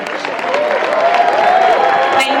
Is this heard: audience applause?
yes